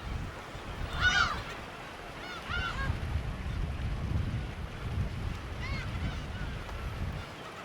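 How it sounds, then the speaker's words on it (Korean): A flock of seagulls in a potato field in Jeju in mid-February gives a few scattered squawking calls over steady wind rumble, with distant honk-like cries coming in short bursts. "감자를 심어놓은 밭은 이미 갈매기가 점령했다."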